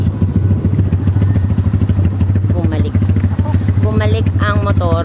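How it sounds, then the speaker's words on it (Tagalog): A motorcycle rides back through knee-deep floodwater in Bocaue, its engine chugging steadily and loudly up close with clattering thumps, while voices chatter over it. "Bumalik ang motor."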